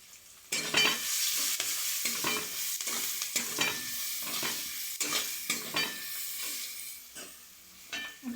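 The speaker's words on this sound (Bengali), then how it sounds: "একটু লাল লাল করে ভাজা হোক।" Onion and garlic paste being stirred and fried with chilli and whole cumin in a pan, giving a steady close sizzle broken by repeated scraping strokes of the spoon throughout.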